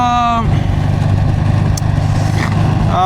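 Motorcycle engine revving as the throttle is twisted, a loud, close, steady mechanical drone that rises and holds, with a voice talking over it at the start.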